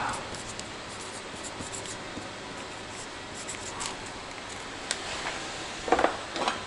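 A marker scratches out a label on a plastic bag during a 1981 Kawasaki KZ550 oil pump teardown, giving faint, soft, intermittent strokes, with a few louder clicks and rustles near the end.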